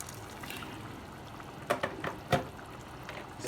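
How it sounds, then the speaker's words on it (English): Hot water from a kettle poured into a pot of food while camping, a short faint splash and gurgle with a few quick liquid bursts, heard close up and without talk. "so now we add the hot water"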